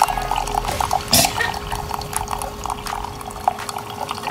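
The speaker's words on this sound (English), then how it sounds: "I love the sound of coffee pouring in a gorgeous cup." Coffee pouring into a cup, a steady close trickle of liquid with a few splashy clinks, fairly quiet and uninterrupted.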